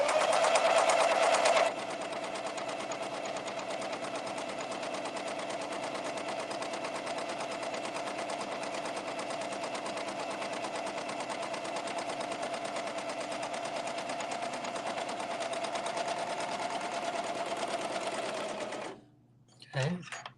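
A serger sewing machine stitches a triple cover hem at a slow pace, a steady close mechanical whir and rapid needle chatter running for about seventeen seconds before stopping.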